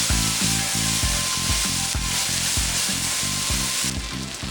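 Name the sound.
chopped garlic stirred into sizzling dill in pan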